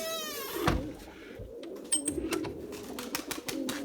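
Pigeons give a few soft cooing calls near a rooftop pergola, with light rustles and clicks around them and no talking.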